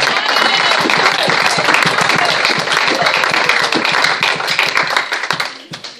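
A church congregation applauding to acclaim the Lord, with loud, dense, sustained clapping from a large crowd that fades out toward the end.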